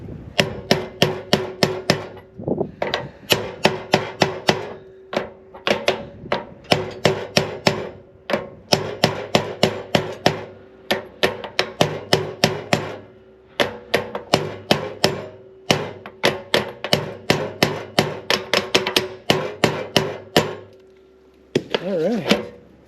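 Rapid bursts of hammer blows on metal as parts of a three-point blower are hammered into place, struck in quick runs with short pauses between, loud and close, continuing for a long stretch.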